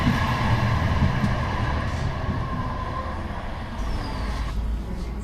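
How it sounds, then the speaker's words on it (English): A Manchester Metrolink tram rumbles along steadily from inside, with a low continuous drone and faint rattling, no voices. "let's get back on the tram"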